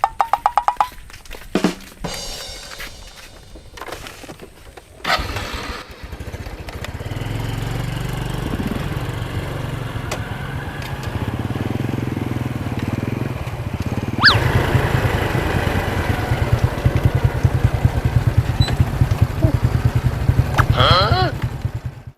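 A motorcycle engine starts and then runs steadily at a low idle, close and fairly loud, with a rise in revs partway through and people talking over it at the start.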